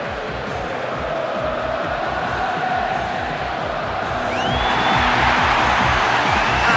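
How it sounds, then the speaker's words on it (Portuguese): A stadium crowd in the PS2 football game Winning Eleven 10 cheers as the players take the field, a broad roar that swells louder toward the end. "A torcida inteira vai ao delírio vendo os jogadores entrarem em campo."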